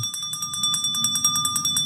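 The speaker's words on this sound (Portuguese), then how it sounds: "toda vez que esse sininho toca, significa que nós estamos na reta final do nosso chá da tarde" A small hand bell rings continuously with rapid, even strikes and a bright metallic tone that holds steady, fairly loud and close, signalling the end of an afternoon tea segment.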